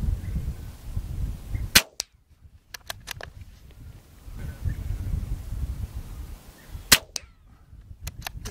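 Tikka T1x rifle fired outdoors with a bipod and scope: two sharp, loud cracks several seconds apart, each followed by a few fainter snaps, over light wind and quiet background.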